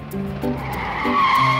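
A cartoon car drives past in a children's animated show, its engine tone swelling briefly against a bright musical backdrop, with no voices over it.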